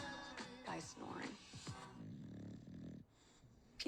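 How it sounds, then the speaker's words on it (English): A dog named Guy snores and snorts in rough, rasping breaths, several wheezy pulls in quick succession followed by a quieter drawn-out exhale, close but faint. "Guy snoring."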